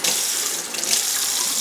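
A steady, loud stream of tap water splashes as a small rooted plant cutting is rinsed under a faucet, continuous and close with no talking.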